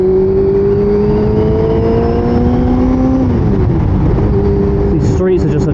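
Sport bike engine riding through city streets, a loud steady drone with rising pitch that dips around three seconds in, then a brief revving burst near the end, heard close up alongside a rider talking.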